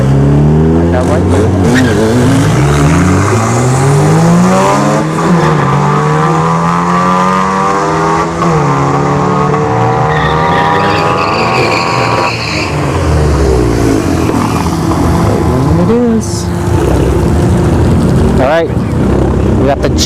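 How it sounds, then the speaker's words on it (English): Two drag cars, an all-wheel-drive Honda Civic and a VW Cabrio, launch and race at a dragstrip during a test-and-tune session, engines rising loudly through rapid gear changes in a continuous roar, with a commentator talking over the racing. "We've got the all-wheel drive Civic on the left and the D-Dub Cabrio here."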